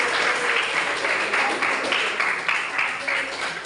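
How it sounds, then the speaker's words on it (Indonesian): A crowd applauds steadily, dense clapping filling the room throughout, fairly loud and close. "Tepuk tangan."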